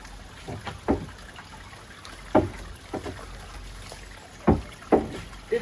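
A sluice gate on a model pyramid barge canal is pushed closed, giving a handful of separate wet knocks and sloshing splashes, close by and spaced irregularly, with faint trickling water between them.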